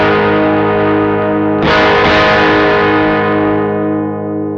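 Electric guitar played through a NUX 63 Diamond Vox-style amp with the cut control fully on, a sustained chord ringing out, re-struck partway through, then slowly fading; a thick, dulled, overdriven tone with no talking.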